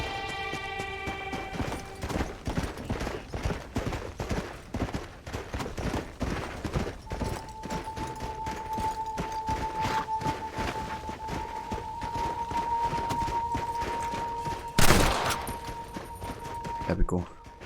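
Gunfire in the western video game Red Dead Redemption: scattered shots crack through a busy game soundscape with steady tones, and a single loud, sharp blast stands out near the end.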